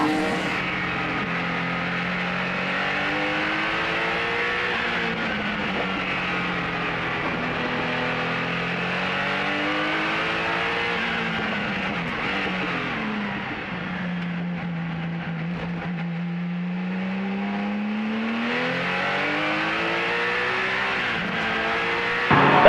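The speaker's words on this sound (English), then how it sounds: "Canepa is your race winner in the number 10 Porsche 962C" A 1986 Porsche 962C race car, the number 10 car in a vintage Bonhams Cup race, drives past with a loud, continuous engine roar whose pitch sweeps up and down through gear changes, briefly dipping before surging again.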